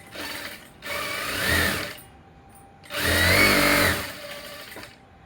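A sewing machine stitches a blouse lining in two short, close bursts of rapid mechanical whirring, each about a second long, separated by a pause.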